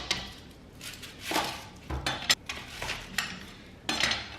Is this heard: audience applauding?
no